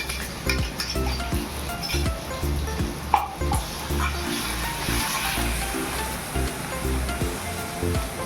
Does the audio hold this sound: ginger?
yes